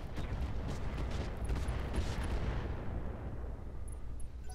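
Mech weapons in the Roguetech battle game all fire at once in a dense, roaring barrage of overlapping booms and crackling blasts, loud and continuous for several seconds before easing slightly.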